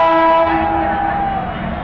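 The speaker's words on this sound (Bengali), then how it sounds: "কি পরিমাণ মানুষ উঠছে ট্রেনে দেখুন টঙ্গী ইস্তিমা থেকে আসা ট্রেন" A loud, sustained train horn blares from a crowded passenger train at Tongi, Bangladesh, then gradually fades, leaving a rumbling hum behind it.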